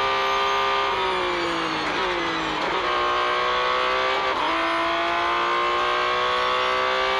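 A 2021 Porsche 911 races in Real Racing 3, its engine a loud, continuous high whine that climbs through the revs with several brief dips at gear shifts, heard alone without talk.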